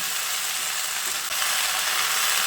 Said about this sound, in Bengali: এবার সব কিছুকে ভালো করে নেড়ে চেড়ে মিশিয়ে নিচ্ছি